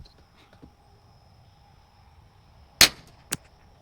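Two sharp shots from a Savage Mark II .22 LR rifle, a loud crack followed about half a second later by a second, fainter crack, with near quiet before them.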